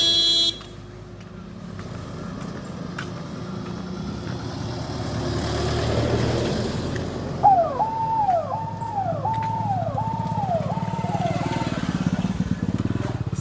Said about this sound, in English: You can see the army vehicles coming here.